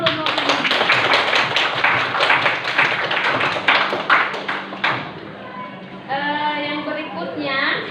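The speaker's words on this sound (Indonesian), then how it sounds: "Kita beri aplaus dulu Nur Mutia." Classroom applause for a student named Nur Mutia: a dense burst of many hands clapping for about five seconds, then fading into murmured voices and a teacher talking.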